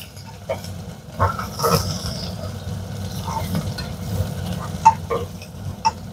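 Chopped onion frying in oil with cumin for a savoury dalia, heard as a low, quiet sizzle with occasional stirring scrapes and a few sharp clicks of a spoon on the pan.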